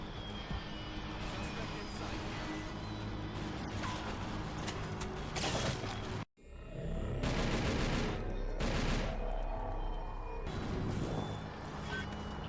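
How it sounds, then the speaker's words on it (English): Continuous rattling gunfire in a shooter video game, dense fusillade bursts filling the clip with a brief cut to silence midway, then more heavy firing and mechanical clatter; a voice talks over part of it. "I'm shooting right at them."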